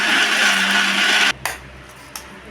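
A kitchen mixer grinder whirs loudly at steady high speed while coarsely grinding ridge gourd chutney, then stops abruptly, followed by a couple of faint knocks and taps.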